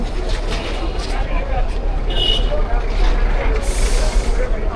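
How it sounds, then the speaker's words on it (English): Busy city street traffic with buses and trucks rumbling past, and sharp hissing bursts of air brakes releasing over a constant low engine drone, with people talking nearby. "there's a lot of traffic even for people"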